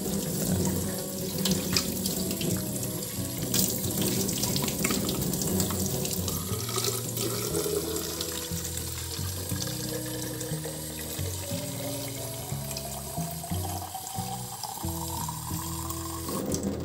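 A tap runs steadily into a sink while a custom printed drinking bottle is washed. The water is a continuous close splash and gurgle with shifting pitch as the bottle fills, and no voices are heard.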